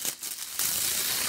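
Plastic wrapping being cut open on the tube of a Nitetronic Z6 smart anti-snore pillow: close, loud crinkling and tearing, with a sharp rip near the middle followed by steady rustling hiss.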